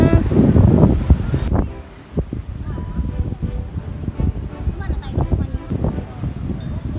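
Wind gusts across the microphone at a beach in Quezon, loudest at first, with waves and faint voices in the background.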